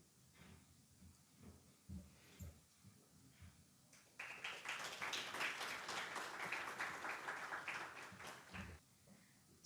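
An audience at a stock-exchange bell-opening event bursts into applause welcoming a speaker, a few seconds of moderate clapping after a quiet start with faint background noise.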